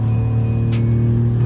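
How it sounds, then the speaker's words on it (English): A 2026 BMW M2 exhaust fitted with a mid-pipe, flaps closed, gives a steady low droning hum close by, held constant throughout with no revving. "So you're just hearing what it sounds like with the mid-pipe."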